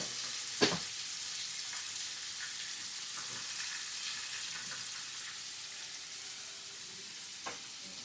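Cumin and mustard seeds sizzle in hot oil for zunka in a home kitchen, a quiet steady crackle with one sharp clink early on and another near the end.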